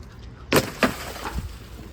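A removed VW Beetle windshield glass is tossed into the trash, giving a few sharp, close crashing clatters over about a second before it settles.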